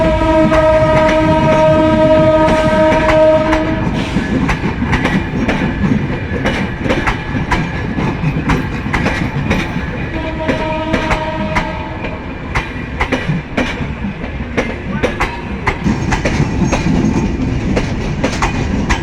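A passenger train from Rajshahi pulls into Joydevpur station with loud, sustained horn blasts over a heavy rolling rumble and a repeated clickety-clack of the wheels on the rails.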